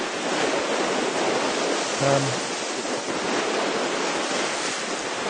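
Broadside waves wash against a small test boat out on open water while steady wind roars across the microphone. The noise is continuous and broadband, with no speech.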